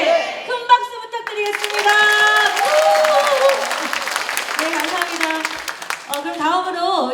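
A crowd at a Democratic Party lecture event in Jungnang, Seoul claps in a sustained round, with music and an announcer's voice over the applause.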